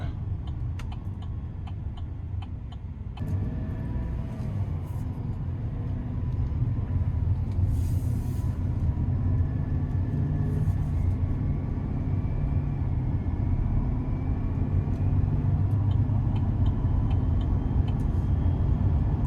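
A 2026 GMC Sierra 2500HD with a naturally aspirated gas engine pulls away from a stop, its low cabin rumble and engine drone rising steadily and growing louder, alongside a faint ticking.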